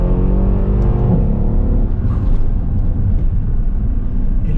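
A Mercedes SL63 AMG engine roars loudly and close by, pulling hard on kick-down acceleration in second gear with a deep, sustained growl.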